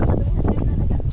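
Low, steady rumbling wind buffets the microphone at the Nagpatong Rock Formation in Tanay, Rizal, with a voice murmuring faintly underneath.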